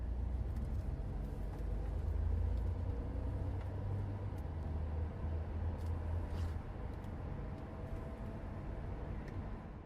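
A 1963 Jaguar Mark II rolls through west London traffic on the Bath Road, its engine a steady low rumble from inside the car that swells briefly before easing, with a constant road drone and no speech.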